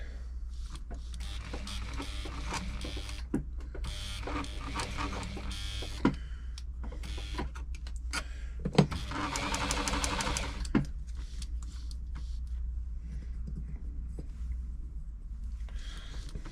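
A Bernette b35 sewing machine set to zigzag runs in uneven bursts, its needle mechanism whirring and clattering close up over a steady low hum, with brief pauses between runs.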